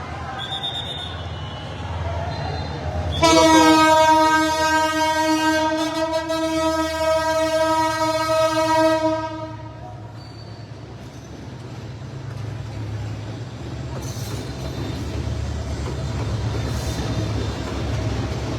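A train held on the tracks at a fire scene, with firefighters' hoses laid across the rails, sounds a loud, sustained horn for about six seconds, then a low rumble continues with distant crowd noise.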